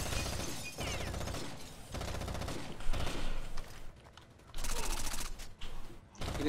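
Light machine gun fire in Rainbow Six: Vegas 2, with dense rapid bursts of automatic fire and mechanical clatter, loud and close, broken by short pauses.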